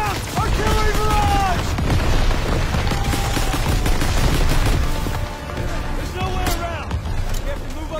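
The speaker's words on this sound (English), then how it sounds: "Artillery barrage!" Call of Duty WWII battlefield during an artillery barrage, loud continuous rumbling explosions and scattered gunfire with shouting soldiers' voices over the din, intensity easing slightly near the end.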